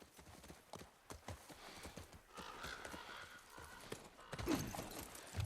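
Horse hooves clip-clop in a quick, steady rhythm close by, with a faint whinny-like sound partway through and rustling movement throughout, in the game The Last of Us.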